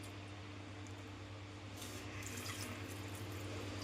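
Water being poured into a pot of rice for khuska, a steady rushing flow that swells louder halfway through and continues to the end, with no talking.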